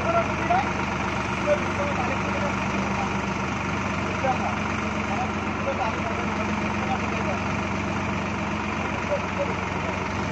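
A delivery vehicle's engine idles close by at night, a constant low rumbling drone that holds steady throughout, with people talking over it.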